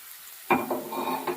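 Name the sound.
potatoes and brinjal frying in a pan, being stirred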